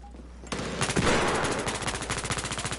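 Rapid automatic gunfire in a first-person shooter video game, a dense burst of machine-gun shots that starts abruptly and keeps a fast, even rhythm, loud and close with no talking.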